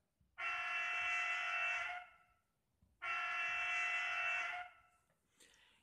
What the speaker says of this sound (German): Die erste Soundfunktion ist die Hupe.